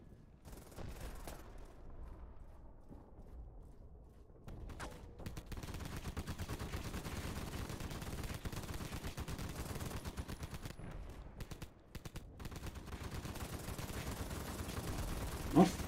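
Gunfire in the Battlefield Mobile video game rattles in dense automatic bursts, with a short lull early on before near-continuous shooting resumes and runs loudly to the end.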